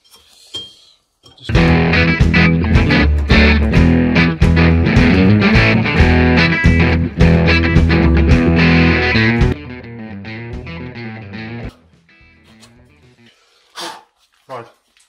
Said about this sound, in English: Three mil drill bit for this one.